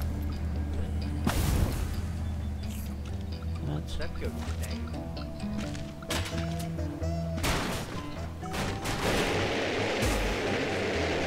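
Fireworks burst in the video game GoatZ with sharp, loud cracks and crackling booms scattered among the game's sounds. A voice talks over most of it.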